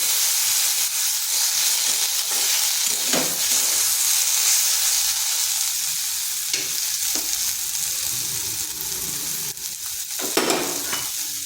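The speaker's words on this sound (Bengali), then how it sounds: "আঁচটা লো আঁচে রেখে এইভাবে কিছুক্ষণ কষে নিতে হবে" Bitter gourd (karela) pieces cook in a pan over low heat, giving a steady sizzling hiss with intermittent scraping strokes from a stirring utensil, continuous and fairly loud.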